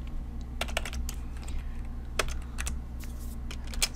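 Someone types code on a computer keyboard in quick, uneven bursts of close, crisp clicks, with a low background hum and no talking.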